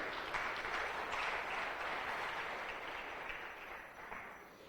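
A church congregation claps together in praise, a dense, fairly distant wash of applause that holds steady and slowly fades toward the end, with no speech on top.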